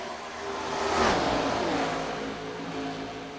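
A Gen 4 NASCAR stock car engine whines past at Auto Club Speedway, its pitch rising then falling as it sweeps by at moderate distance, then drones on fainter.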